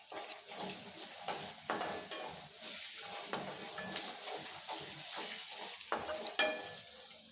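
Dried red chillies and a sprig of curry leaves frying in oil, a crackling sizzle under repeated spoon scrapes and clinks against the pan, close and continuous, no talking.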